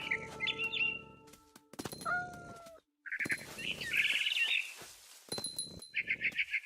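Bright barn swallow chirps and short warbling calls in What Remains of Edith Finch come in separate bursts, with a brief silent gap in the middle and no talking.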